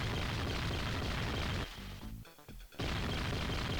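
Retro Sega Mega Drive game audio from Robocop Versus The Terminator: a loud, continuous barrage of gunfire, briefly dropping out mid-way before resuming at full intensity.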